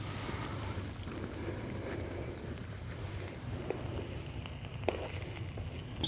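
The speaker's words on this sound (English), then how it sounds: "Wind's coming in from obviously my left." Wind blowing outdoors in woodland, a faint steady rushing noise with low buffeting across the microphone and a few small clicks and knocks, no voices.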